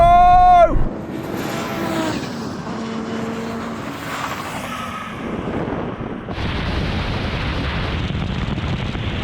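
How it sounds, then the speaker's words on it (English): An Audi Quattro rally car launching in a drag race: a sharp engine whine rises and cuts off, then a loud, sustained roar builds and carries on, with wind buffeting the microphone. "Great launch from the rally car."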